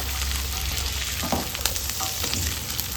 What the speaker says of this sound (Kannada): ನೀಟಾಗಿ ಫ್ರೈ ಮಾಡ್ಕೋಬೇಕು ನಿಧಾನ ಉರಿಯಲ್ಲಿ ಒಂದು ಹತ್ತು ನಿಮಿಷ ತುಪ್ಪದಲ್ಲಿ ಫ್ರೈ ಮಾಡಿಕೊಂಡ್ರೆ ಗ್ರೇವಿ ತುಂಬ ಚೆನ್ನಾಗಾಗುತ್ತೆ